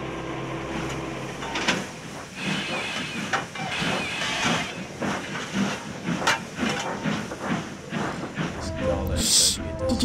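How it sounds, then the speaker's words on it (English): A distant steam train engine in an audio drama, with hissing steam and chuffing bursts over a rumbling background, fairly loud and continuous. "Much like the far-off distant calls of railway adventures far away. It's the familiar sound of Kodak complaining"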